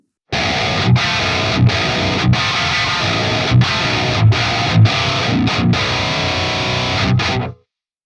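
Heavily distorted electric guitar played through a Fortin Nameless Suite X amp plugin with the presence knob near 7, giving bright, aggressive chugging riffs with sharp palm-muted attacks, loud and continuous without talk.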